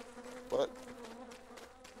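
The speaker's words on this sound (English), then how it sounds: "Oh, the bees attacking Wallace." Bees buzz in the video game Don't Starve Together, a faint droning hum with one brief louder swell near the start, alone without talk.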